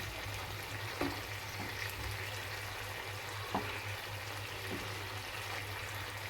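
Pieces of fish fry steadily in a pan with a dense, even sizzle that holds throughout, broken by a couple of faint taps.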